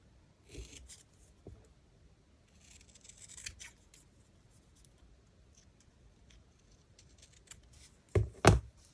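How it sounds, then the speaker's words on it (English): Scissors snip a paper shopping receipt into small sections, with a few faint, sparse cuts and light paper rustles, then a sharper, louder pair of snips near the end in a quiet room. "I can just cut little sections."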